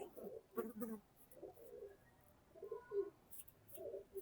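Pigeons kept by a fancier coo softly in short, repeated low phrases, several bursts spread across a few seconds, faint and fairly close in a quiet setting.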